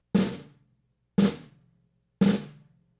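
Three short, tightly pressed buzz strokes on a snare drum, each a clipped burst that dies away quickly, evenly spaced and close.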